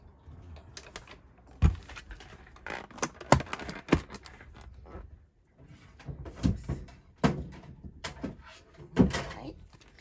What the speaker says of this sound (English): I'll bring in my cut emboss machine